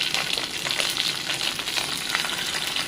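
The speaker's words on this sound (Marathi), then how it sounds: "फोडणीसाठी मी कढीपत्ता आणि लसूण, राई, हिंग, जिरा ह्याची फोडणी तिथे करत आहे" Curry leaves, garlic, mustard seeds, asafoetida and cumin sizzle in hot oil as a tempering for a cluster bean bhaji, a steady loud crackle and spit with sharp pops scattered throughout, close by and with no voices.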